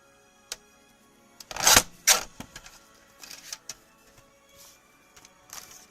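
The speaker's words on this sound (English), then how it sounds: "I love this decal trimmer." A decal trimmer cutting decals, with sharp mechanical clicks and two louder cutting bursts close by, followed by scattered lighter clicks and ticks in a quiet room.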